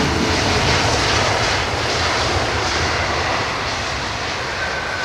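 Airliner landing at London Heathrow on a wet runway with reverse thrust engaged, a loud steady jet roar filling the whole stretch and easing off only slightly toward the end.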